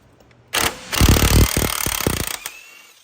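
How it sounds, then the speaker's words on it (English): An impact wrench with a 21mm socket hammers at the pitman arm nut on a 2006 Dodge Ram diesel: a short burst, a pause, then a sustained loud rattling run of rapid impacts, close up, ending with a brief final blip. "impact wrenches are awesome"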